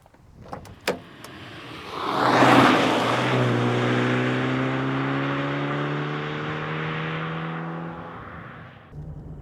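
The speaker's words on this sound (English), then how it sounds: "Let's find out how it drives when you really put the second choke to the test." A Peugeot 205 GT engine accelerates hard on a road test, its pitch rising steadily as the twin-choke carburettor opens. A few clicks come first, then a sustained rising engine note heard from inside the car, ending abruptly.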